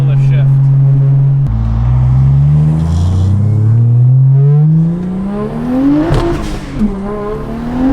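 A single turbo BMW 335i pulls hard in a loud, close engine drone that rises steadily in pitch, then briefly dips and climbs again through a no-lift shift, with turbo whistle and a voice talking underneath.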